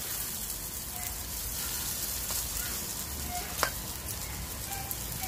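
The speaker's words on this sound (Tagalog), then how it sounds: "Ang sunod na natin ilalagay dito yung ating chicken para isangkot siya natin itong ating bawang sibuyas at luya." Chicken sautéing in a pan with garlic, onion and ginger, a steady soft sizzle and frying hiss running throughout with a few faint clinks of stirring.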